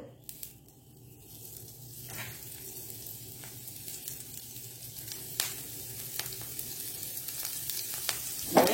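Masala-marinated fish frying in a hot pan gives a steady, hissing sizzle with scattered pops and crackles, growing slightly louder toward the end.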